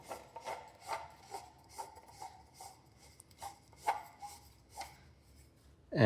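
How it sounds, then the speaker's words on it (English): A 3D-printed pole screws onto a matching base pole of a through-desk monitor mount, producing soft, rhythmic rubbing and scraping thread turns about every half second, close and quiet, ending in a brief louder knock. "this screws right on top of the base pole"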